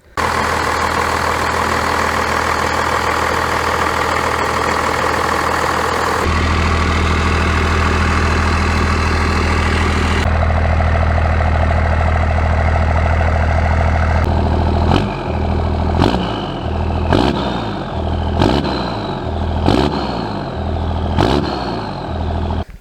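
A 1st gen Cummins diesel truck engine runs loud and close, idling with a steady low rumble that shifts in tone a couple of times, then sharp rhythmic clicks or knocks repeat over it.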